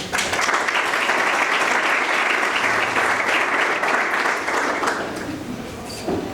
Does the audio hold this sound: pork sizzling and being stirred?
no